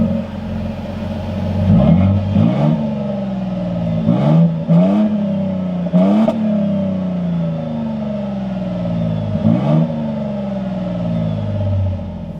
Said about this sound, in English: So firing up this hybrid motor